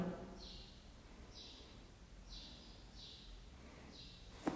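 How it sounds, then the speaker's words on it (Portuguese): Faint bird chirps repeat every second or so against a steady low background hum, distant and quiet, with a brief knock near the end. "Olha os passarinhos cantando, gente."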